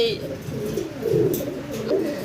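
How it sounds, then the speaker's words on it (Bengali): A blue-bar owl pigeon with a round head coos in soft, low repeated phrases close by, with people talking over the birds. "এখানে কী কবুতর দেখাচ্ছেন ভাই"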